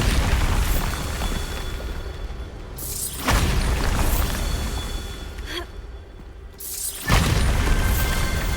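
Bombarda explosion spell in the Hogwarts Legacy video game: three loud, sharp blasts a few seconds apart, each with a rumbling debris tail, over a constant roaring background.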